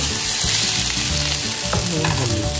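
Flat beans fry with softened onion and green chilli in a pan, giving a continuous loud sizzle with faint stirring scrapes and no talk.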